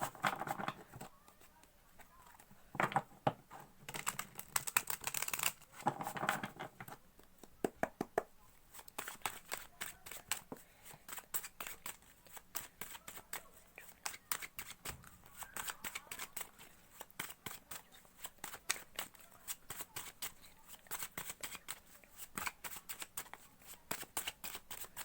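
A deck of tarot cards is shuffled close by, with bursts of riffling at first and then a long run of quick, rhythmic card flicks and taps, quiet and continuous.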